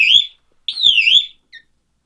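Fire alarm system under test, giving a shrill electronic whoop: two rising-falling wails with a gap between them, then a short final chirp, loud and close with no talking.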